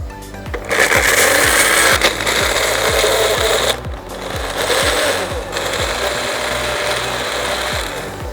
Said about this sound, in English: I'm going to chop it up in a little food processor